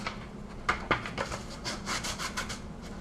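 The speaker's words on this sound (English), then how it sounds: "Swipes of the sandpaper." Sandpaper rubbed by hand over a plastic replica Boba Fett prop part, a handful of quiet, close scratchy swipes in an irregular rhythm.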